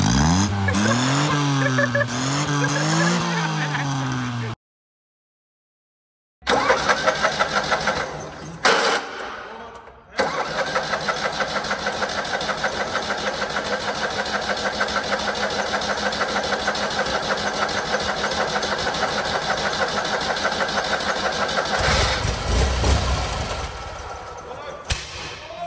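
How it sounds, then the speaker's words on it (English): A small 1-liter three-cylinder car engine from the mid-1980s idles steadily with a low, uneven putter, dropping out briefly before restarting and running continuously, close and fairly loud. "1 liter three cylinder from the mid 80s."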